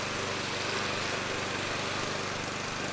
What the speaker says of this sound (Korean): 관리인들이 잔디 깎는 기계로 수목원의 풀들을 정리한다.